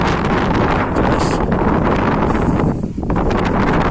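Strong storm wind roaring continuously across the microphone on a high sky bridge 95 metres above the ground, loud and steady with heavy buffeting that dips briefly near the end.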